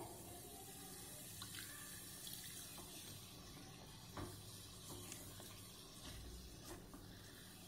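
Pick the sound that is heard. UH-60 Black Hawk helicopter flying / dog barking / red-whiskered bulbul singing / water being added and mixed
water being added and mixed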